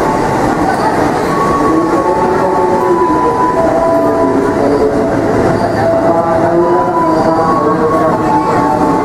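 Train running steadily throughout, a loud continuous rumble with rail noise from on board or close beside the track, with no talk.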